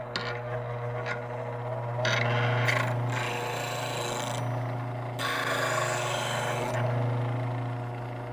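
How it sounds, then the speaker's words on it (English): A woodturning tool is ground on a sharpening grinder: a steady motor hum with bursts of rasping metal-on-wheel grinding as the tool is pressed to the wheel, close and moderately loud. "So to sharpen it, I would just go throw it up there and grind it."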